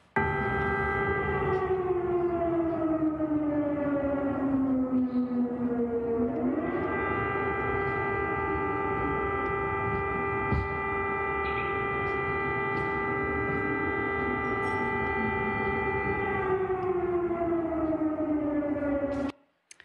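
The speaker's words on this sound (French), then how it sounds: "Des sirènes d'alerte aérienne tout le temps, jour et nuit." A loud, wailing air raid siren in Kharkiv, Ukraine sounds continuously, its pitch sliding down, rising back up and holding steady before dipping again near the end.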